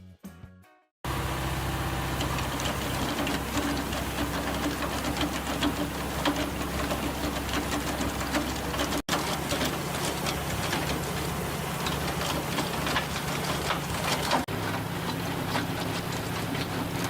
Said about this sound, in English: a trenching machine came to the site